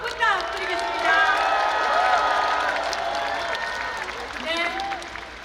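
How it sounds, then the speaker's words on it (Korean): A rally crowd applauds three speakers at a Democratic Party campaign event in Yongsan, a broad wash of clapping and cheering with voices rising and calling out over it at moderate loudness. "다시 한번 우리 세 분 연사께 힘찬 박수 부탁드리겠습니다"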